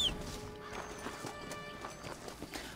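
Steady hooves clip-clopping at a walking pace amid busy game music and ambience in Red Dead Redemption, with a brief whinny near the start.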